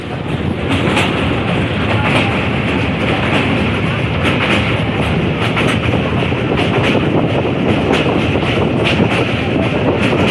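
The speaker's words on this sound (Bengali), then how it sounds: "ট্রেনকে স্বাগত জানাতে শাব্দিক চন্দে যেন মেতে উঠে প্রতিটি সেতু" Meter gauge train rolling over bridges on the Silchar–Lumding mountain railway, a loud continuous rumble with rhythmic clickety-clack of wheels on rail joints and wind buffeting the microphone, heard up close from on board.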